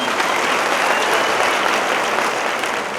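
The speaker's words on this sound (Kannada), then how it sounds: "ನಮ್ಮೆಲ್ಲರ ನೆಚ್ಚಿನ ಎಚ್ ಶಿವಶಂಕರ್ ಸರ್ಗೆ ದಯಮಾಡಿ ಒಮ್ಮೆ ಪ್ರೀತಿಯ ಚಪ್ಪಾಳೆ." Warm, loud applause fills a packed public meeting hall in Davangere for former MLA H. S. Shivashankar, a thick, even roar of many hands clapping together without any speech.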